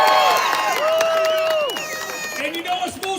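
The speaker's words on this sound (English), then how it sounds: "just give me a hand clap and a cheer for freedom" An outdoor addiction-recovery rally crowd at the Michigan State Capitol bursts into cheering, whooping and clapping, loud at first and tapering off, with raised voices and shouts throughout.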